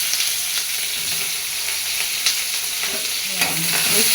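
Tomato, onion and green chili mixture stirred in a sizzling pan, with steady frying hiss under a few soft scrapes of the spoon, close and continuous, no voices.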